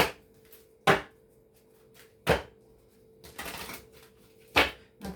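Several sharp riffling bursts of cards being shuffled, spaced about a second apart, with a quiet steady hum underneath.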